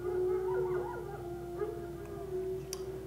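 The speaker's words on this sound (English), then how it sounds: "But the pups were howling, 21 howled." Wolf pups howling, dubbed into wildlife footage of wolves: several thin, wavering high howls and yips overlap above a steady low drone, fairly close and continuous, with no one talking.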